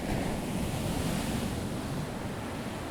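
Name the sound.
ocean waves crashing on beach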